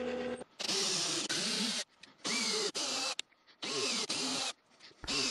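A power drill works tapped holes into metal blocks for a homemade cast iron 12-inch jointer, running in repeated loud whining bursts of about a second each, separated by short pauses, close by.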